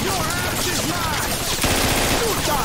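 Continuous gunfire from a weapon in the Scarface: The World Is Yours video game, rapid bursts rattling loudly throughout with game effects layered over it.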